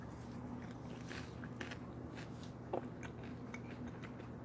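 Someone bites into and chews homemade popcorn inside a van, producing faint soft crunches and chewing clicks scattered over a steady background hum.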